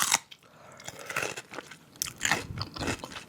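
A crunchy pickle bitten and chewed close to the mic for ASMR, with loud, wet crunches repeating in quick, uneven bursts and no voices.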